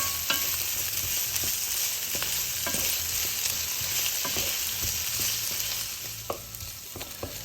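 Bell peppers sauté in a hot pan for chicken curry, giving a steady close sizzle with scattered clicks and scrapes from stirring.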